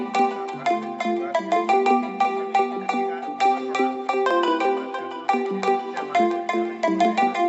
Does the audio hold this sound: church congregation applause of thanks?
no